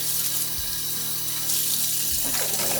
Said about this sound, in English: Got to rinse it off